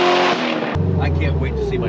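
Corvette engine pulling hard in third gear, a loud tone that rises, then a sharp shift to a deep steady roar with some speech faint underneath.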